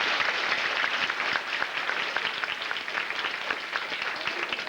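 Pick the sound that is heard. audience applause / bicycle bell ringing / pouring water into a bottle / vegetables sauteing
audience applause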